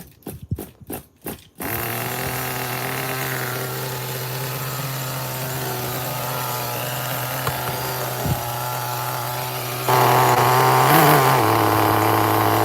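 A nitro engine in an HPI RS4-3 18SS Outlaw RC car, which is leaking oil and has a loose clutch, starts after a few sharp pulls. It then idles in a steady, buzzing drone and revs louder near the end, with no one talking over it.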